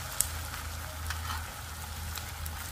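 Beetroot sweet mixture frying in a little oil in a pan, a soft steady sizzle with faint crackles and a low hum beneath, close and continuous with no talk.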